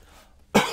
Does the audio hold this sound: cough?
yes